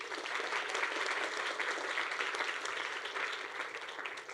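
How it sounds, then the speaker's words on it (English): Warm audience applause at a college senior awards banquet, many hands clapping in a steady, even wash from a moderately distant crowd for about four seconds. "Let's give them one last round of applause."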